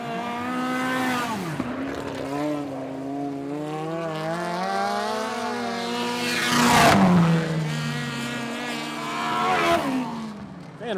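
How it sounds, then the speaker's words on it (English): Sprint car engines roar around a dirt track at a race, one car with possible engine trouble, as loud, continuous high-pitched engine notes rise and fall with Doppler sweeps as cars pass close by. "Van Rayburn might have some engine difficulties. He doesn't sound real good"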